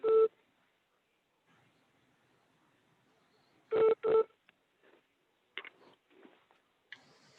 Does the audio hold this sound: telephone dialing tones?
yes